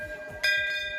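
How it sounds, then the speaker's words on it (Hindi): A temple bell rung by devotees during worship of the sun god Bhaskar on Kartik Purnima, one bright metallic strike ringing out with a sustained, shimmering tone over a soft low background murmur. "भगवान भास्कर की पूजा अर्चना करते हैं, घंटी बजा कर ईश्वर से आशीर्वाद मांगते हैं"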